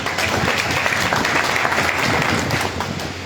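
Dense, steady applause from a crowd at a Bhim Army leader's public gathering in Muzaffarnagar on Buddha Purnima, loud and sustained throughout with no voices above it.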